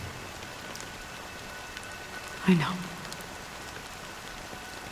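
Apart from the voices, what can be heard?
rain falling in Honkai: Star Rail video game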